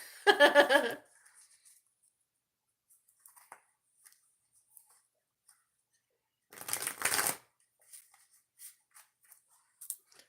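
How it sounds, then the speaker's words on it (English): Two bursts of tarot card shuffling, a long riffle at the start and another a few seconds later, with light card handling and small taps in between. "Two shuffles for Aquariuses in their pick a card reading."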